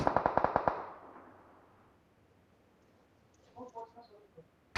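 Rapid bursts of automatic gunfire crack out in a BGMI (Battlegrounds Mobile India) battle, about seven quick shots up front that fade into quiet, followed later by a softer flurry of distant shots.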